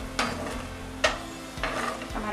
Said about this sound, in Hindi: हम यहाँ सिर्फ अभी काजू और बादाम को फ्राई कर रहे हैं।